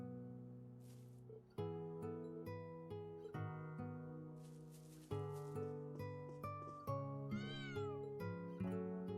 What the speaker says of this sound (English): What's the cat doing here?